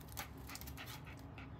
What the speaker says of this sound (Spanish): Risa de perrito, bien hecho.